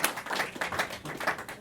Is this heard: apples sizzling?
no